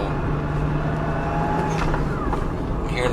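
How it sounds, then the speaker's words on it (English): Toyota Supra JZA80 with a turbocharged engine running steadily at a JDM car expo, a continuous engine drone with faint rising whistle-like turbo tones over it, fairly loud and unbroken. "hearing the turbine spool up nicely"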